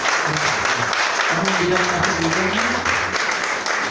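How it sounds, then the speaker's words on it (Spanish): A church congregation applauds during a Sunday Spanish-language service, a continuous wash of clapping from many people, with someone talking over it and low musical tones underneath. "Den un aplauso al Señor."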